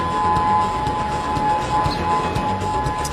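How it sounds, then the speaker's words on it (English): Hurricane warning sirens sounding in Honolulu to alert beachgoers, a steady, loud tonal wail held throughout over broadband outdoor noise. "In Honolulu, officials using hurricane sirens to warn beachgoers of the incoming danger."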